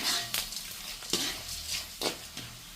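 Mustard seeds, urad dal and chana dal fry in hot oil for tamarind rice, a close sizzle with sharp scraping stirs every half second or so.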